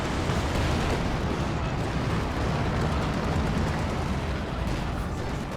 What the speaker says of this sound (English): We got an air strike coming on in.